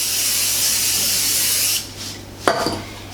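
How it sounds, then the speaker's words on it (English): Aerosol pan spray hisses steadily onto a baking pan for sinnamon or orange cranberry rolls, a loud continuous spray lasting nearly two seconds, then stopping, followed by a brief clatter of the can or pan. "Grease your pan with pan spray"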